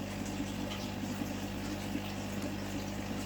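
A small suction cleaner draws water from a baby fighting fish tank with a faint, steady gurgling hum that runs unbroken throughout.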